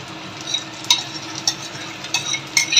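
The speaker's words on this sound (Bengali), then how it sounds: "এবার টমেটো পিউরিটা ঢেলে দিচ্ছি" Tomato puree going into a pan of frying onion and garlic, a soft steady sizzle broken by several sharp clinks and scrapes of a utensil against the pan.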